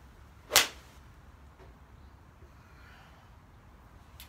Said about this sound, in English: it feels really solid off the club face. There's definitely a lovely sound to the strike